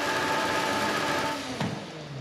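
A McLaren 620R's V8 engine in Forza Horizon 5 rumbles at a low idle, fading slightly, with a single sharp pop near the end.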